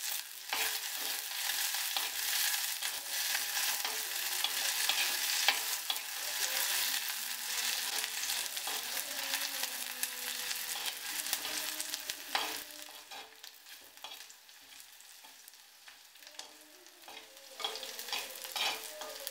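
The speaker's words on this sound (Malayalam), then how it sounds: "കുറച്ച് കറിവേപ്പില എല്ലാം കൂടെ ഇടാം ഇത് നമുക്കൊന്ന് മൂപ്പിച്ചെടുക്കാം" Curry leaves and slit green chillies frying in hot oil for a simple Kerala lunch, a continuous bright sizzle and crackle with frequent stirring strokes, close and steady, fading slightly near the end.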